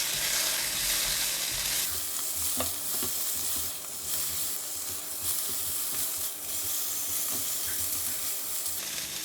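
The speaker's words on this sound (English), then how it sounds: "Add in the prawns and cook it for 1 minute." Prawns fry in sesame oil and garlic oil, a continuous dense sizzle with occasional spatula scrapes and stirs, close and steady without any talking.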